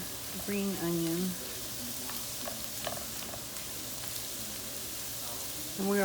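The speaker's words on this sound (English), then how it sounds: "And we're gonna fry it down with our vegetables." Tomato and green onion frying with vegetables in a pan for crawfish étouffée, a steady low sizzle running throughout, with a voice speaking briefly over it at the start and end.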